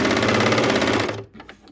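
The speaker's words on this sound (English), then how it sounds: "So I'm just going to stitch. And I'm just trimming off a little whisker of fabric here." A bernette 64 serger stitches and trims fabric in a fast, loud mechanical whir with dense rapid ticking, then stops abruptly after about a second, leaving faint handling noises.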